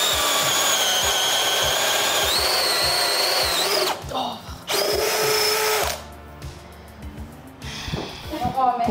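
A DeWalt power drill whines loudly for about four seconds, cuts out, bursts again briefly, then gives way to quieter handling noise and people talking.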